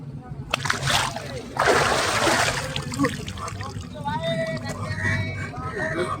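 A person dunks into cold river water at Varanasi, with splashing and sloshing bursts, the heaviest surge lasting about a second, then lighter dribbling water while voices talk nearby.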